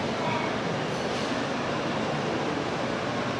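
A Bangkok skytrain arriving at an elevated station makes a loud, steady rushing roar of wheels and motors that fills the scene without pause.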